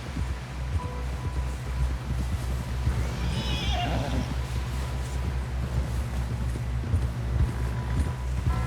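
A horse whinnies loudly once in the middle while hooves clip-clop steadily underneath, set in the video game Red Dead Redemption 2, with a low steady background hum and no clear speech.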